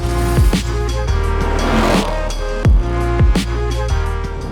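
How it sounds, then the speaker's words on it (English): A 2018 Ford Mustang GT V8 with the Ford Performance Mach 1 active exhaust upgrade revs repeatedly, loud and close, with sharp throttle blips and burbling between them. "Here we have the Ford Performance Mach 1 exhaust upgrade kit fitting your 2018 to 2023 Mustang GT with active exhaust"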